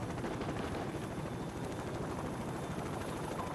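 A helicopter in the Call of Duty 4: Modern Warfare campaign drones with a steady, dense rotor chop, loud and continuous throughout without a break.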